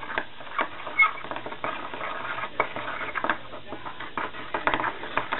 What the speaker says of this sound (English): Stir for a very long time.